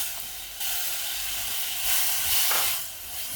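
Chopped raw mango sizzles steadily in a hot pan, a close, loud frying hiss that swells and eases as the pieces are sautéed.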